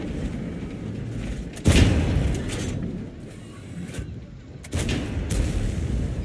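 Tank cannon fire in World of Tanks, an ELC EVEN 90 battle against a 121: two heavy booming shots about three seconds apart, each followed by a rumbling tail over a steady engine drone, with no talk.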